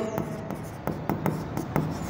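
Handwriting in an accounting lesson: quick, close scratching and tapping strokes of a pen on paper come in a rhythmic series over a faint background hum.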